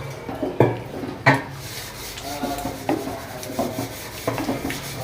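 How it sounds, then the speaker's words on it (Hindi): Lentils are stirred in a cooking pot for haleem, with a spoon scraping and knocking against the pot in irregular strokes, some sharper clanks standing out, close and moderately loud. "तो फ्रेंड यहाँ पे हम अपनी दालें जो हैं वो इसके अंदर अच्छे से मिक्स कर लेंगे।"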